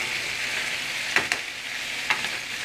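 Wild-caught salmon, still frozen, sizzles steadily in a pan during home cooking, a constant bright hiss broken by a few sharp crackles and pops, heard close with no talking.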